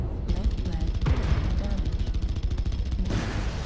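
Rapid machine gun fire in MechWarrior Online, a dense stream of closely spaced shots hammering on without pause for several seconds, loud and near.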